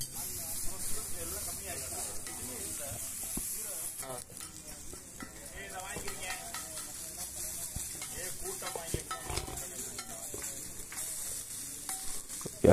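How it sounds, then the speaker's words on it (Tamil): Scarlet gourds (kovakkai) are stir-fried in a pan, with a soft sizzle broken by repeated scraping and stirring strokes close by, all through the clip. "கோவக்காய் வந்து சூப்பராக வதங்கிருச்சுங்க"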